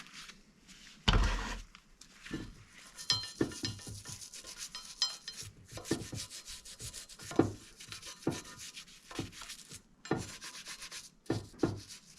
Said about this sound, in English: Take a little Scotch-Brite to the stem too